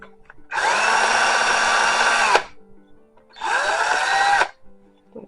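A power drill whirs in two bursts, the first about two seconds long and the second shorter, each with a winding-down pitch as it stops.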